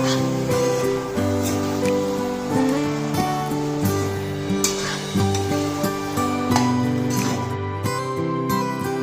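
Chili and spice powder sizzles in oil in a pan as it is stirred, a loud, crackling fry with scraping strokes from the spoon, while music plays underneath.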